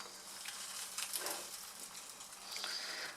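Rice cakes for spicy Korean tteokbokki bubbling at a rolling boil in a pot over high heat, giving a steady, close, hissing burble that surges slightly midway and again near the end, with no talking.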